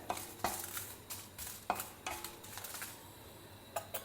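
Red chilies, some spicy and some Kashmiri, fry in a teaspoon of hot oil with a faint, quiet sizzle, broken by repeated sharp clinks and scrapes of a spoon against the pan.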